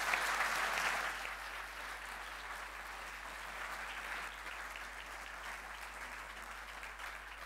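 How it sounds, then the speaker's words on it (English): An audience at a panel discussion applauds the panelists, a steady wash of clapping that starts loud and then carries on at an even level without talk. "A warm round of applause to our wonderful panelists."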